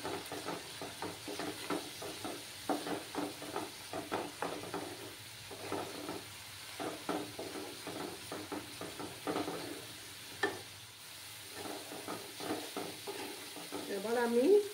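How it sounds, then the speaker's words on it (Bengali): A spice mixture with Kashmiri chili powder is stir-fried in a pan, soft sizzling broken by repeated scraping strokes of a spatula in an uneven rhythm. The sound is close but fairly quiet, with a faint stray voice near the end. "কালারের জন্য কাশ্মীরি লঙ্কার গুঁড়ো দিলাম 1/2 চামচ, দিয়ে মশলাটাকে ভালো করে কষাতে হবে।"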